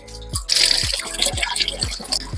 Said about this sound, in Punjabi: ਆਪਾਂ ਚੰਗੀ ਤਰ੍ਹਾਂ ਪਾਣੀ ਦੇ ਨਾਲ ਐ ਵਾਸ਼ ਕਰ ਲਵਾਂਗੇ